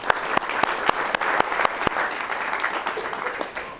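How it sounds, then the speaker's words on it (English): A reunion event audience bursts into loud, lively applause, with dense clapping and a few sharp individual claps standing out over the crowd. "this is more applause than Feynman ever got"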